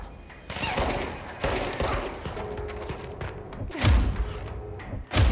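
Gunfire in the video game Control: bursts of shots and heavy thumps fill the whole stretch, loud and dense, with rapid overlapping reports and a big impact near the end.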